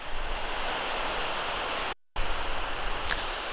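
Gullfoss waterfall in Iceland, a steady loud roar of rushing water filling the scene, broken by a brief silent gap partway through before the continuous torrent resumes.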